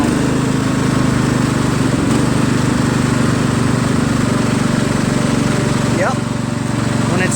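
Kohler Command CV460S engine on a Craftsman LT1000 lawn tractor running steadily at low throttle, a loud continuous drone with a faint pitch shift near the end.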